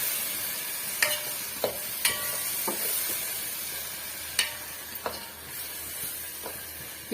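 Fish curry masala stirred in a pan on the stove, a steady frying sizzle and hiss running throughout, broken by several sharp scraping clicks of the spoon against the pan.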